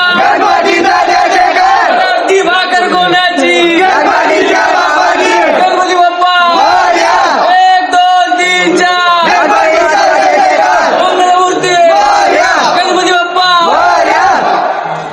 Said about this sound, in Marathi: मग ऐका मग कसे नारे लावले तर आपण